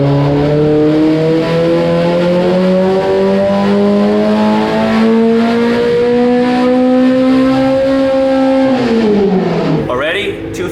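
A Honda K24 four-cylinder engine on a dyno holds a loud, steady high-rpm wail that climbs slowly toward 10,000 rpm, then drops sharply near the end.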